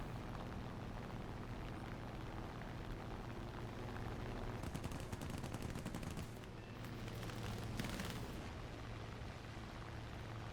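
Aircraft machine-gun fire in a War Thunder air battle, an enemy Focke-Wulf firing at the player's premium Spitfire from behind: rapid rattling bursts around the middle and end over a steady engine drone.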